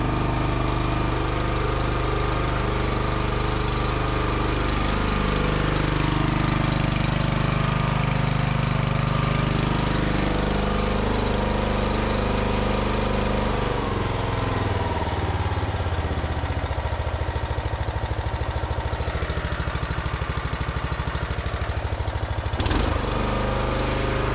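A Weibang Virtue 53 SSD walk-behind lawn mower engine is pulled into life with the recoil cord, then settles into a loud, steady running drone close by, with a sharp knock near the end.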